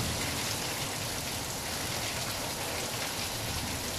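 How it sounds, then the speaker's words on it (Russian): Heavy rain mixed with hail pounding down during a thunderstorm in Dimitrovgrad, a dense, steady roar of drops and pellets hitting surfaces, loud and continuous with no voices. "И дождь, и град"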